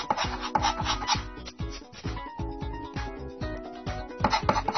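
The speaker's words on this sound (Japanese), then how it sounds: "後ろから削ってみようか。" A coin scratches rapidly across a One Piece scratch-off lottery card, producing a steady run of short, dry rasping strokes in quick rhythm, close and clear with no talking.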